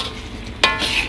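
Squid sambal being stirred and fried in a wok, with a low background sizzle broken by one sharp scrape or clatter of the utensil near the middle.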